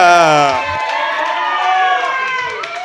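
A live comedy-show crowd cheers and whoops for Emma on stage on her birthday, voices loud and sustained throughout with faint clapping underneath.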